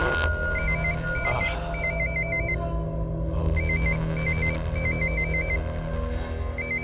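A phone's electronic ringtone repeats in quick patterned bursts, pauses briefly, then resumes over a low steady rumble.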